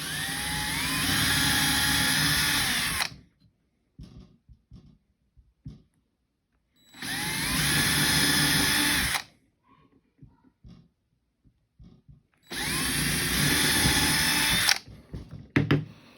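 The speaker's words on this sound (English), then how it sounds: "I'm going to drill my holes so the nails can fit through" A power drill whines loudly in three long bursts of about two to three seconds each, drilling holes for nails, separated by quieter pauses with small knocks and handling sounds.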